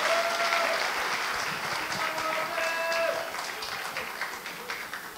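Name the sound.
audience applause at a seminar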